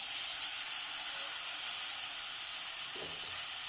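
Tamarind extract poured into hot oil with ground masala for temple-style puliyodharai, giving a steady, loud broadband sizzle and hiss that runs throughout, with a small splash near the end.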